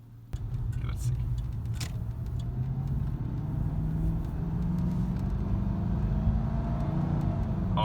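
Ford Crown Victoria V8 idles with a steady, low, throaty rumble after an exhaust modification, heard up close and running continuously, with a brief metallic clink near the start.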